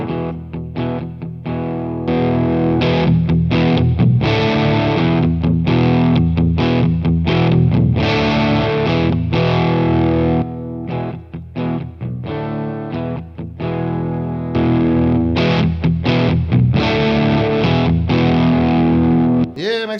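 An electric guitar played through an EarthQuaker Special Cranker overdrive pedal into a Boss Katana amp rings out loud and distorted, with strummed chords and riffs broken by short stops over about twenty seconds.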